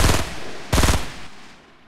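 Burst assault rifle fire from the video game Fortnite: two loud, tight bursts of rapid shots about 0.7 seconds apart, close and punchy, the second followed by a fading reverberant tail with no talking.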